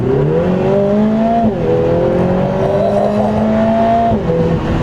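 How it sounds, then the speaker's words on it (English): A Lotus Emira sports car in sport mode gives a loud, close engine and exhaust drone that climbs steadily through the gears, dips briefly at each shift and surges again, with no talking. "Ooh, the exhaust did something."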